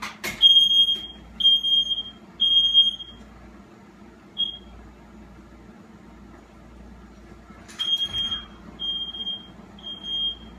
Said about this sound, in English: Guys heard that alarm going off.